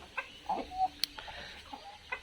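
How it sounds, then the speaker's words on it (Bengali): Local free-range chickens on a farm clucking softly in short, scattered calls at moderate distance, with a brief sharp tick partway through; no speech. "এগুলো আমাদের দেশি মুরগি"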